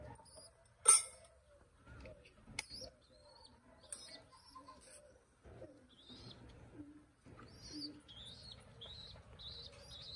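Fifteen-day-old pigeon chicks give thin, high chirps and squeaks in short scattered bursts, with a sharp louder call near the start and soft rustling and flutters between, heard close and without talk.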